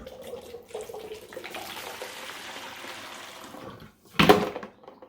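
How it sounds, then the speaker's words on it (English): Water and dry ice poured from a graduated cylinder into a jug: a soft gurgling, bubbling pour that runs for a few seconds, then a brief louder splash near the end. "I'm going to pour from my graduated cylinder, my dry ice, my water, everything into this container."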